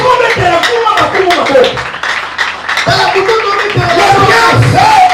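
A church congregation claps and cheers for the king, with dense, rhythmic clapping and crowd noise that stays loud and close throughout, and voices mixed in.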